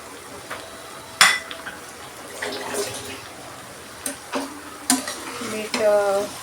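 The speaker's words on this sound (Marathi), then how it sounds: "मीठ मिक्स करून घेऊया." Okra curry with spices and salt is stirred in a pan, with a few distinct spoon scrapes and metallic clinks over a soft bubbling background, close and fairly quiet.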